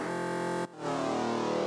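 A bright, wide stereo reese bass layered with an 808 in a rap beat drones in sustained sawtooth-like tones, cuts out briefly, then swells back in loud and steady.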